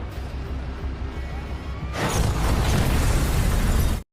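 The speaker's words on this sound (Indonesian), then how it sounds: "mereka pun menembakkan rudal ke arah pusat kantor pertahanan Rusia, tempat Sidorov itu berada" A missile explosion in an action film: a low rumbling roar that suddenly swells into a louder, dense blast with crackling debris, sustained for a couple of seconds before cutting off abruptly.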